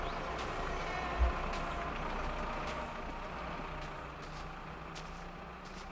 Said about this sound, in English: I can hear his engine.